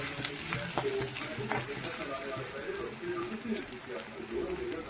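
Ginger-garlic paste dry-roasting in a pan for a matki usal, giving a steady, close sizzle with faint scraping and clicks throughout.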